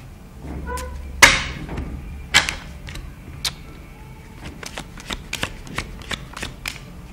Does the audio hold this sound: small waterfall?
no